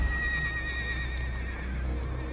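A horse in the video game Total War: Warhammer gives one shrill, wavering whinny over a low rumble and a few soft hoof clops.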